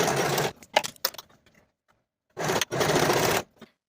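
A sewing machine runs the top-edge waistband seam of Sinclair Flex Leggings with a 1/4 inch allowance, in two close, busy bursts: a short one at the start, then a longer, steady run after a pause with a few faint clicks.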